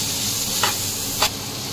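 Tomato frying in a pan for Bengali chana dal, a steady sizzle with two brief scraping stirs of a spoon against the pan.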